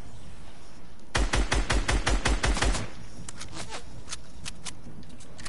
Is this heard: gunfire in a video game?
yes